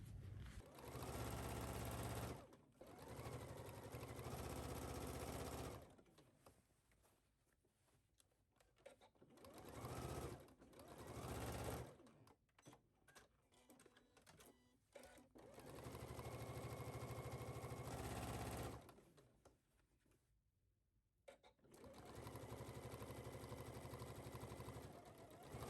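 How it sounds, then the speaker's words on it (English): Close by, a sewing machine stitches a 3/8-inch seam on a pant leg. It runs in several loud bursts of a few seconds each, with quieter handling gaps between them. "you're going to sew this at 3/8 of an inch seam allowance at your machine"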